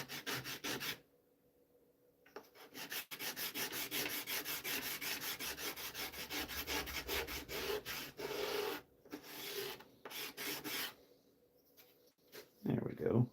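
A wooden bandsaw box being hand-sanded to remove bandsaw marks in a workshop, giving rhythmic rasping strokes in bursts with short pauses, fairly close and moderately loud.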